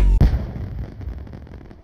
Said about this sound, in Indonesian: ada kembang api